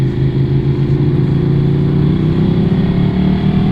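A Ducati Streetfighter V2 with a full Akrapovic exhaust idles as it warms up on a wet, stormy day, giving a loud, steady, close-up low burble that holds even throughout without revving.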